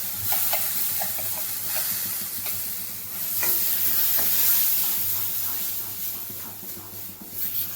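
Ground masala paste frying in a pan for chana masala, a loud, steady hiss and sizzle close by with light stirring scrapes that swell midway and then ease off.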